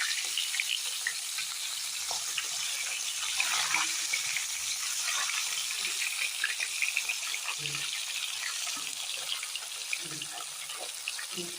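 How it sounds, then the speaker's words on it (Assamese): Fish heads fry in oil in a pan with a continuous hissing sizzle and irregular small pops, close and steady, with occasional faint background sounds under it. "এই মাছৰ মাথাহে ভাজি আছোঁ।"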